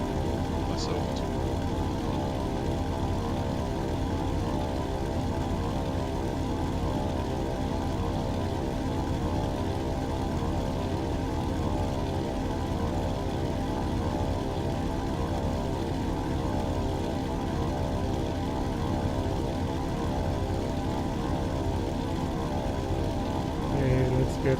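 A propeller aircraft engine in the video game WWII Online drones steadily and evenly from start to end, with no pauses.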